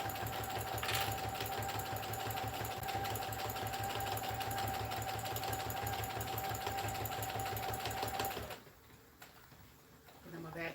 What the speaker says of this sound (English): we're going to just do a straight stitch down the side of them